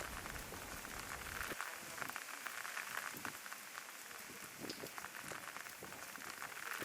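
Rain dripping from the eaves, a steady soft patter of drops falling onto a surface, faint and continuous with no voices.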